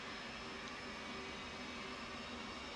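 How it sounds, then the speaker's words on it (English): A steady, loud broadband roar from an F/A-18 Hornet's left jet engine as it starts up, holding an even whine and rush throughout with no voices over it. "Then let's crank our left engine."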